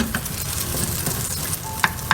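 Red kidney bean kebab shallow frying in a hot pan, a continuous sizzling crackle with a few sharper pops and clinks of a utensil near the end, close and with no talking.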